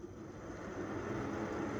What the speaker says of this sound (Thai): น่าจะได้ยินเสียงพัดลมหมุนนะพัดลมหมุนอยู่นะครับ